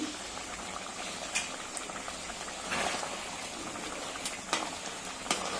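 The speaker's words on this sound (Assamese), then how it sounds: "এয়া তৰকাৰী ঢাকনাটো খুলিছোঁ। উতল ধুনীয়াকৈ আহি গৈছে।" Fish curry with chital fish boils in an uncovered pot, a steady close bubbling and hiss with a few sharper pops and faint clinks of utensils.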